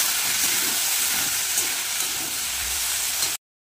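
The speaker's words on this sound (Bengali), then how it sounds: "কেটে রাখা ঢেঁড়স আর আলুটা দিয়ে দেবো।" Chopped okra and potato sizzle loudly in hot oil, a dense steady frying hiss that runs unbroken for a few seconds and then cuts off abruptly.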